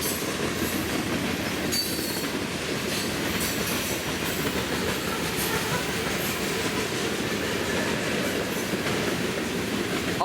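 BNSF manifest freight train led by a GE locomotive, rolling past steadily with continuous rail rumble and clattering wheels, with faint squeals now and then, loud and close for the full length.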